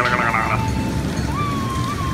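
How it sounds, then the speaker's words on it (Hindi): Steady rain patters throughout in Yamunanagar, with a low rumble of thunder rolling underneath and a faint tonal whine drifting in the background. "देखिए मौसम, बिजली कड़क रही"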